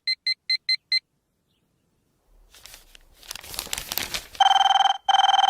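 A phone rings with five quick electronic trills, then rustling and crinkling noise, followed by two long, loud tonal rings close by.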